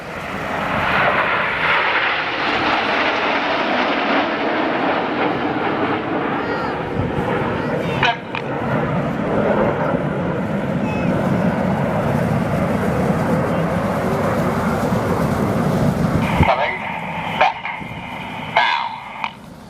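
Red Arrows jets fly in formation at the Perth airshow, a loud sustained roar of aircraft engines that swells and shifts over about twenty seconds, with crowd and commentary sounds faintly beneath.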